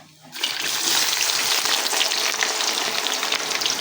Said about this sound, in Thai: เจียวหอมให้มันนั่น ออกสีเหลืองๆ ให้มันสุก